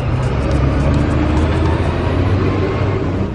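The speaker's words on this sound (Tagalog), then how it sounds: "Ang ingay ng mga sasakyan guys." Street traffic rumbles in a steady, loud roar of passing cars and heavier vehicles close by, with no break in the low engine drone.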